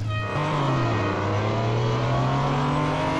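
Porsche race car in Real Racing 3 accelerating hard away, its engine note climbing steadily in pitch through the gears, loud and continuous with no talk.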